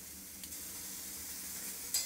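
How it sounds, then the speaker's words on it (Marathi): Lemon juice is stirred into spiced green chilies in a pan over a low gas flame, producing a faint, soft sizzle with light stirring sounds and a small clink near the end. "लिंबाचा रस टाकून घेतला आहे बघा आणि मस्त असं मिक्स केलेलं आहे"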